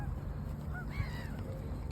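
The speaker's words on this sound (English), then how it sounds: "That's a duck." Ducks and geese honking and calling while being fed in a London park, several short squawks rising over a steady, noisy outdoor background with no talk.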